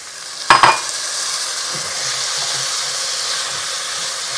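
Chopped tomato hits a hot pan of frying ginger and garlic for a chickpea curry masala: two quick, loud splattering bursts, then a steady, even sizzle and hiss continuing close by.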